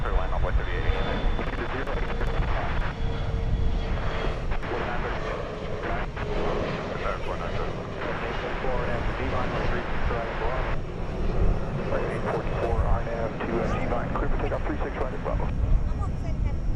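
A jet airliner roars on its landing approach to runway 36 left at DFW Airport, a loud, sustained engine rumble with wind buffeting, while a tower radio exchange and spoken voices run over it.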